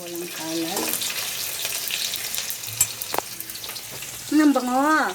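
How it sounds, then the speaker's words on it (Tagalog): Garlic and onion sizzle steadily in a hot pan for a green bean and ground meat adobo, with a few clanks of a ladle, while someone talks over the frying. "Inisa ko lang aking bawang at ang ating sibuyas."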